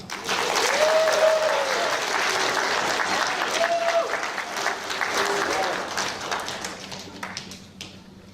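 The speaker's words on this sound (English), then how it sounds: "We can clap after each one of these as well." An audience claps steadily at a school prizegiving in a hall, the applause sustained and dense for several seconds before tapering off near the end; a faint voice sounds underneath.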